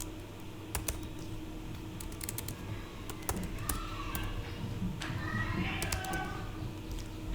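A computer keyboard being typed on while entering a database query: a quick, irregular run of light clicking keystrokes over a steady low background hum.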